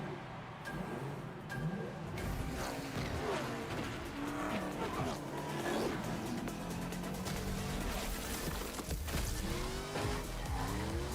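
Racing cars in the video game Rocket Racing speed past with squealing tires and skids, a dense, continuous roar of engines and tire screeches layered over music-like game audio throughout.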